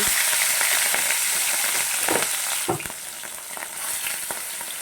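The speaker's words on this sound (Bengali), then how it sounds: "তেলটা তো গরম হয়ে আসছে একে একে মাছ দিয়ে দিচ্ছি" Fish pieces rubbed with turmeric and salt frying in hot oil in a wok, a loud dense sizzle that eases slightly partway through, broken by a few sharp spatters and clinks, close up with no talk.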